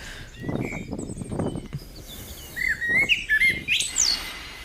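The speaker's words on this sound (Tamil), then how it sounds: "சாப்பாடு போட்டுக்கிட்டு நான் புறா விரட்டிக்கிட்டு இருந்தேன்." Pigeons being fed outdoors make soft, low cooing pulses, then a run of sharp chirps and bird calls, moderately close with light background noise.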